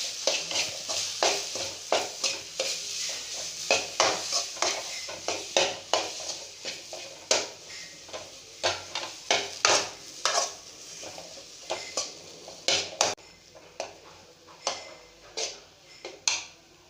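A spoon repeatedly scrapes and clinks against a pan while stirring a potato nugget mixture, sharp metallic taps in an irregular steady rhythm, close and clear with no talk.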